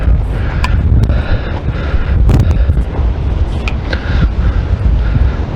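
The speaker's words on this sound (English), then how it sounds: "Nice breeze, very nice breeze. It's always breezy up here" Wind gusts across a mountainside on the west side of El Paso, buffeting the microphone with a loud, steady low rumble and occasional sharper bumps, close and without talking.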